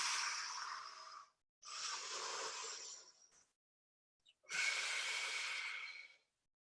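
Slow, deep breaths during yoga exercise, three long airy exhales and inhales of a couple of seconds each, separated by short silences, heard close up with no talking.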